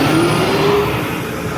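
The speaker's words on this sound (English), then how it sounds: "I know this garbage truck is very trigger happy" A garbage truck's engine rumbles on a street in Queens, New York, loud and close, a steady drone with a slight rising whine and no voices.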